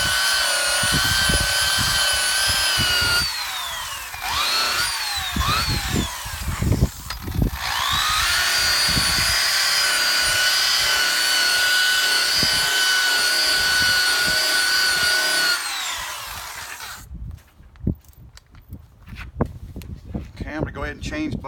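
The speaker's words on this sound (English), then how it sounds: "now to get the compound off, you just finish with the rotation of the buff" A rotating buffing pad polishes compound off a car headlight, giving a steady whining motor hum that drops out for a few seconds and then returns for a long, even run before stopping.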